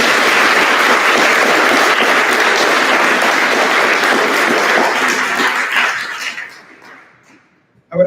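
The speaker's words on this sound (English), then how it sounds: "let's give them a round of applause" At an 8th-grade school graduation ceremony, a large audience gives loud, sustained applause that holds steady for about six seconds before thinning out and fading to quiet.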